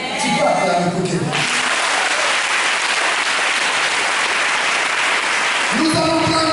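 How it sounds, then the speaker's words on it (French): Church congregation at a healing mass breaking into loud, sustained applause and cheering that fills the room for several seconds, with a preacher's voice heard briefly at the start and end. "Tu peux acclamer pour quelqu'un."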